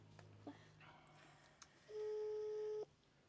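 A telephone call is placed: a few faint clicks and beeps of dialing, then one steady electronic ring tone that lasts about a second and cuts off.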